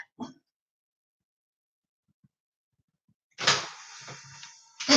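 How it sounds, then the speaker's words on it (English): An indoor door at home swings and latches shut with a brief scrape and thump, close and fairly loud after a near-silent pause. "Let me close this door a minute"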